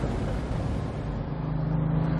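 A Bugatti Veyron 16.4 Grand Sport Vitesse speeds up on a freeway on-ramp, with a steady, dense engine and road roar. A droning tone rises near the end, all heard from inside without any talk.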